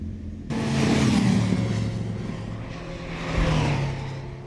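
Racing motorcycle on the Isle of Man TT road course in 1999; the engine roars in abruptly and loud, holding a steady droning rumble that swells again near the end, with no voices.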